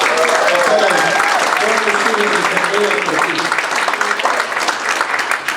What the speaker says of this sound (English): So, round of applause for Matt.